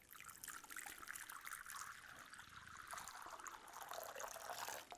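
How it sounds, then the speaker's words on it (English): Hot water poured into a container, a steady bright trickle and splash running continuously and close for several seconds with no talking. "first I will begin by putting the hot water into this one."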